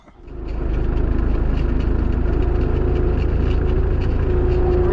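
A farm tractor engine starts up and settles into a steady, loud, close idle rumble with a constant droning tone while a sprayer is unhooked; no talk.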